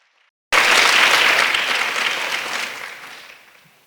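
A symposium audience bursts into loud applause all at once, a dense wash of clapping that holds strong for a couple of seconds, then gradually thins and fades out.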